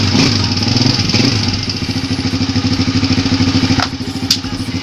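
A Motoposh Pinoy 125 motorcycle, just repaired after an electrical wiring fault, runs at a close, loud, steady idle with an even pulsing engine beat throughout.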